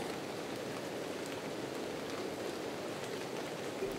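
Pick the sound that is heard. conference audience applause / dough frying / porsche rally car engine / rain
rain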